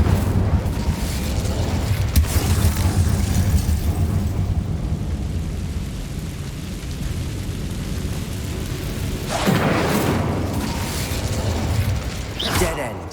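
A fiery Incendio spell goes off in Hogwarts Legacy, a sustained rumbling whoosh with a burst of crackling flame, running under game music and ambience before a second bright flare near the end.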